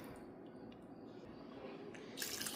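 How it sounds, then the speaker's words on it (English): Water poured into a cooking pot on a stovetop for boiling noodles, a steady soft liquid wash rising to a brighter splash near the end. "I think I'm going to add a little more water."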